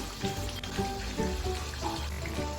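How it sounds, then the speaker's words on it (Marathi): Kachori frying in hot oil gives a steady, soft sizzling bubble throughout, close and moderately quiet, with no talking. "आता आपण अशाच प्रकारे सर्व कचऱ्या तळून घेऊया"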